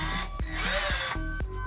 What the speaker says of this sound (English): Problem is I have to drill into this ridge here